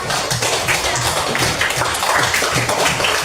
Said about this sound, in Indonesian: Tepuk tangan ke anak teman kita.